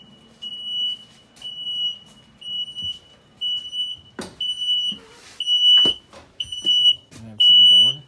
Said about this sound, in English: Oh, I don't know what I set off the alarm there, Bert.